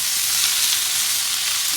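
Seasoned Philly cheesesteak ingredients sizzle in a hot pan on a grill, a steady, loud broadband fry hiss that continues unbroken throughout.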